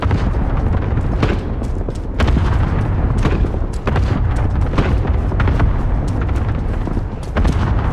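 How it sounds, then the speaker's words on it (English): Cluster strike explosions in Call of Duty Warzone, a rapid run of loud booms and blasts bursting one after another in irregular succession, heavy and close with rumbling tails. "Cluster strike away."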